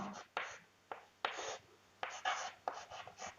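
Chalk or marker writing on a board during a class lesson, heard as a series of short scratchy strokes in quick bursts with brief pauses between, close and fairly quiet.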